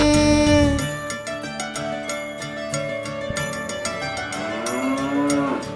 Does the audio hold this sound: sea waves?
no